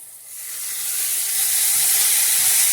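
Mint and other leaves hit hot oil and a loud, steady sizzle rises and holds, crackling bright and close with no voices.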